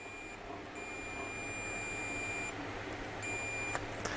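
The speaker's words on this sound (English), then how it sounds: "if I put that on buzzer, you'll hear that" A multimeter's continuity buzzer sounds a high, steady electronic beep continuously, dropping out briefly twice before resuming, over a low background hum, during a radio repair.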